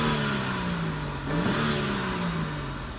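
A 2018 BMW X6 with an inline-six engine idles with a steady, smooth exhaust drone that dips slightly in pitch mid-way and holds close and alone throughout.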